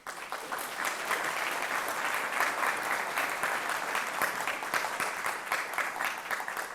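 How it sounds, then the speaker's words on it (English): Audience applause at a mayoral housing debate in Mississauga, a steady, dense wash of many hands clapping at moderate distance that holds evenly throughout without talk. "You may now applaud."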